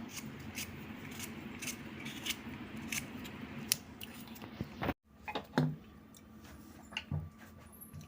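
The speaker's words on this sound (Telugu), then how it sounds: "ఇప్పుడు కడుక్కున్న బంగాళదుంపల్ని మనం కట్ చేసి పెట్టుకుందాం ఇలా సన్నగా కడుక్కుందాం" Washed potatoes being sliced thinly with a knife for homemade french fries give a series of crisp, irregular cutting clicks and squishy chops close by, with a brief pause midway.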